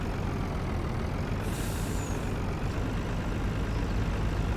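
A Freightliner semi truck engine in a driving video game rumbles steadily and loudly throughout, a dense low drone with a brief high hiss, like an air brake release, early on.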